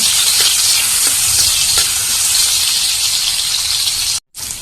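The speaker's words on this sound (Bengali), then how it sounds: "এখন আমি একটু শুটকিটা ভেজে নেব" Dried fish (shutki) fries in hot oil with a loud, dense, continuous sizzle heard up close, with a few faint taps and a short gap near the end.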